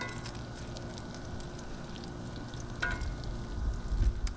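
Mac and cheese bites frying on a 22-inch Blackstone griddle, a steady close sizzle with light scraping and turning sounds that grows slightly louder near the end, with no talking.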